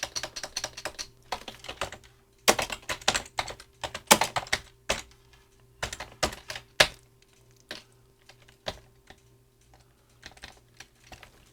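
Rapid bursts of typing on a computer keyboard, with irregular clusters of close, crisp key clicks separated by short pauses, set against a quiet room with a low steady hum.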